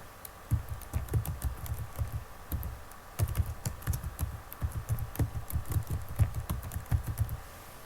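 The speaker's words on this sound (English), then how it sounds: "I'm just going to type it in" Fingers type an email address on a computer keyboard into an online enrollment form. Rapid, close keystrokes click in uneven bursts, with a brief pause near the middle, over a faint steady hum.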